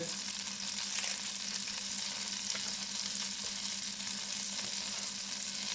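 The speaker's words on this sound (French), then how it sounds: "je fais fondre un petit peu de beurre. Pour faire revenir ma viande." Butter sizzles in a pan, ready for browning pork for a sauté of pork in sweet cider. A steady, even, close frying hiss runs throughout with no voices.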